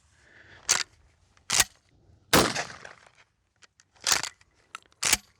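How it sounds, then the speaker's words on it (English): A pump-action shotgun fires birdshot at a silhouette target in an indoor hallway. Several sharp, separate bangs ring out over about five seconds, each with a brief crackling tail and quiet gaps between them. "First up, we're gonna shoot a round of birdshot."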